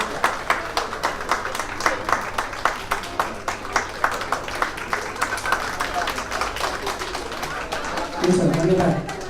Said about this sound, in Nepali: हामी ठुलो ताली बजाउनेछौँ।